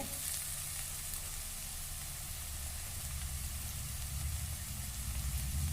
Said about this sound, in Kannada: ಈಗ ಕ್ಯಾಬೇಜ್ ಗಡ್ಡೆ ಹಾಕ್ತೀನಿ